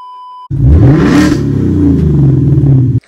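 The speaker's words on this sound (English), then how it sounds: "Now my muscle car, or my car in general, sounds like all the muscle cars that annoy the hell out of everybody in the neighborhood." A 2024 Ford Mustang GT with an upgraded exhaust revs hard after a brief test tone: a loud, close, deep V8 roar holds for about two and a half seconds, then cuts off abruptly.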